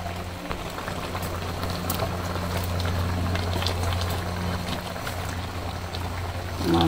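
Fish curry with potatoes bubbles in a pot on the stove, a steady soft simmering and boiling that stays even and fairly quiet for several seconds, with no talk over it.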